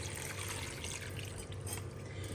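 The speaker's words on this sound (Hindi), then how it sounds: "ये मैं पानी ऐड कर रही हूँ।" Water poured into a cooking pot makes a soft, steady splashing and gurgling stream, fairly faint, lasting the whole moment.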